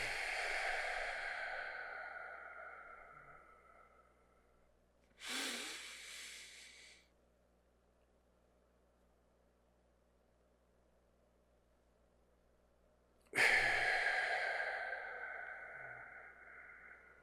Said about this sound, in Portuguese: tranca a respiração por 7 segundos e relaxa e solta a respiração por 8 segundos